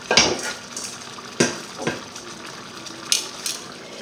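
A metal lid clanks onto a simmering pot of coconut curry chicken on a home stove, several sharp clattering knocks spaced through a quiet kitchen hiss.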